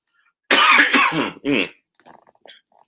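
One heavy cough breaks out up close, followed by a second shorter cough and some faint rustling noises afterward.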